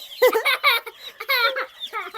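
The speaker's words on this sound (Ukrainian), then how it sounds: "Диві, які класні. Качечки." Young ducklings peep in a quick run of high, bright chirps, several overlapping calls in close succession, heard very close and loud with no talking over them.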